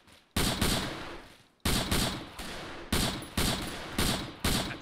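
Gunfire in a Vietnam War shooter game: several loud, sharp bursts of automatic fire at roughly one-second intervals, each cracking in and then tailing off, with no voices.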